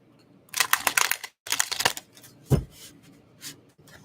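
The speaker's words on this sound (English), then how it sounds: "Let me get a good shuffle for Pisces." Tarot cards are shuffled by hand in quick, crisp bursts of riffling and flapping, with short pauses and one soft thump, close and fairly loud with no voices.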